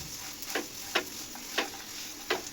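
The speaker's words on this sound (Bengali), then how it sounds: "সেমাইগুলি আমি 2-3 মিনিট ভেজে নেব" Semai vermicelli frying in a pan, a quiet background sizzle punctuated by four spaced scraping stirs of a spatula, faint and close with no voices.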